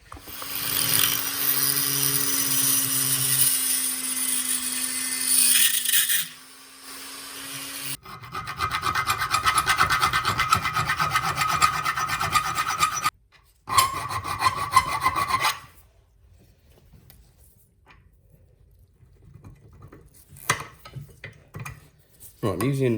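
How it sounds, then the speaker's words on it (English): A hand file rasps back and forth across metal, squaring a part during repairs to a Belle BMD300 mini dumper; bursts of close, gritty strokes are broken by short pauses and near-silent gaps. "then I'm going to use the die grinder to take out some of that, and then I'll file square"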